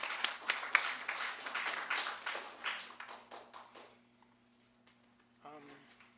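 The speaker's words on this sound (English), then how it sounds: "so please give him a round of applause" Audience applause at a bookstore staff showcase: a few seconds of close, moderate clapping from a small crowd that thins out and fades, followed by a brief voice.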